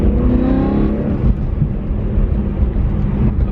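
A BMW E92 M3 with a BPM Sport tune accelerates in traffic: its engine note climbs steadily for about a second, then settles into a loud, steady roar mixed with road noise.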